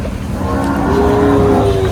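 A cow gives one long, loud, low moo close by, filling the whole moment.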